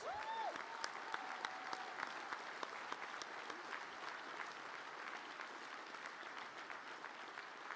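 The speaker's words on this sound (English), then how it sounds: "give the School of Protective and Human Service graduates a round of applause" At a technical college commencement ceremony, a large crowd claps for graduates of the School of Protective and Human Service, a steady, fairly distant wash of applause holding even throughout.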